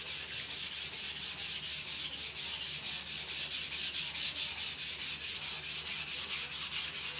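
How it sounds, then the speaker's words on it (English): A knife blade slides back and forth on a polishing stone in a steady, fast rhythm of gritty rubbing strokes, close and even throughout with no talking. "I can definitely hear a difference in the way it slides on the stone."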